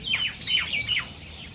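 Birds gathering to be fed biscuits give a rapid series of about five harsh, close squawks, one after another, then the calls fade off; no voices.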